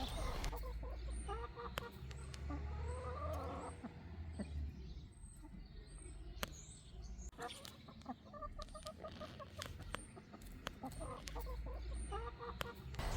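Chickens cluck softly and intermittently in a small netted garden area, with scattered sharp clicks and low rumbling background throughout, while a voice talks faintly at times.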